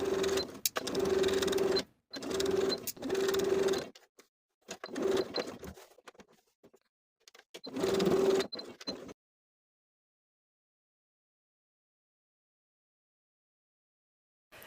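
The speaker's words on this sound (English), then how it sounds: "we're going to edge stitch along the peak, down about 1/2 inch, then straight across to the other side of the placket" A sewing machine edge stitches the placket of a plaid wool jacket in several short bursts of fast, rhythmic needle chatter separated by pauses, close and clear, before falling silent.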